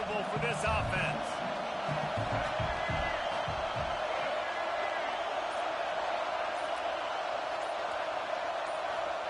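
College football stadium crowd at a Michigan versus Oklahoma game, a steady roaring wash of distant voices and cheering that persists throughout, with an announcer talking over it.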